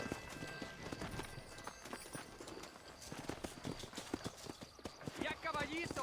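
Horse hooves clip-clopping in steady rhythm on a trail in the Western video game Red Dead Redemption, close and distinct, with characters talking over the hoofbeats and a brief whinny near the end.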